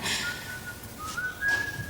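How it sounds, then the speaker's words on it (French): Someone whistles a thin, sustained tune, a couple of rising held notes, fairly close and clear over faint background noise. "Comment peux-tu siffler?"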